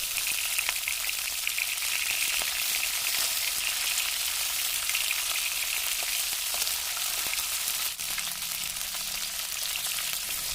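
Rohu fish pieces fry in hot oil in a pan, giving a loud, steady, dense sizzle that holds evenly throughout with no voices.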